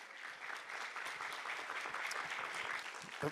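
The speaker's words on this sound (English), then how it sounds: "How about a round of applause for Dr. Johnson?" An audience at a district town hall in a high school applauds Dr. Johnson, a superintendent finalist, with a steady dense round of clapping from a sizable crowd throughout.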